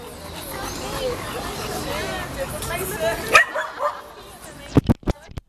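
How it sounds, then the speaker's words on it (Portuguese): A small dog yips and barks in a few quick, close bursts near the end, after a stretch of excited voices and background chatter. "Olha você, cachorro."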